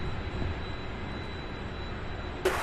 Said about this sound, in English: So we got two takeoffs here.